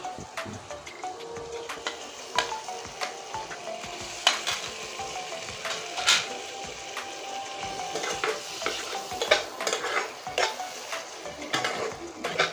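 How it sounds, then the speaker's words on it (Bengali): Masala with chopped tomato sautéing in a pan for an egg and brinjal dish, with steady sizzling and repeated scraping and stirring strokes of a spoon against the pan, moderately loud and without speech. "এবার সুন্দর করে মশলাটা কষতে থাকো"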